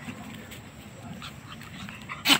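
A dog kept beside cattle on a rural farm is faint and mostly quiet in a calm outdoor setting, then gives a single short, high whimpering yelp near the end.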